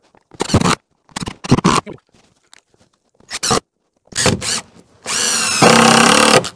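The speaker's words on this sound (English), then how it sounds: "So I'm going to go ahead and put some screws in there." Power drill driving screws into a wooden board for a fuel station setup in a car port, heard as several short whirring bursts with gaps, ending in a longer sustained loud run with rising pitch.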